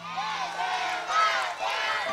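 Schoolchildren from a primary school taiko drum team scream and cheer loudly at a ceremony honouring model mothers, a sustained high-pitched crowd roar with swelling peaks of shrieks.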